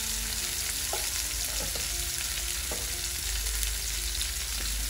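Potato and cauliflower masala with chilli and coriander powder fries in a pan with a dense, steady sizzle throughout and a few soft stirring knocks. It is close and loud, with no voices.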